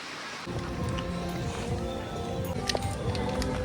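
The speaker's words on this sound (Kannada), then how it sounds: "ಆ್ಯಕ್ಚುಲಿ ಮಳೆ ಬಂದಿದೆ ಇಲ್ಲಿ ಇವಾಗ ನೋಡಿ" Rain falls outdoors during a day of travel in Thailand, a steady broadband hiss that starts after a brief quieter moment and holds evenly, with a few faint scattered patters on top.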